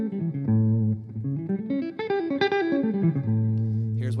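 Electric guitar at a PRS guitar clinic playing a dominant arpeggio, single notes climbing then descending in a quick, smooth run, close and prominent with no talk.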